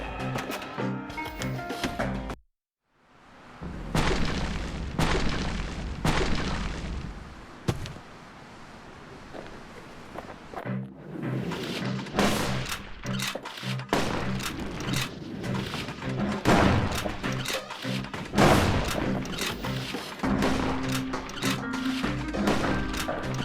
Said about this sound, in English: Nothing beats the feel of shooting a Caelandian army carbine.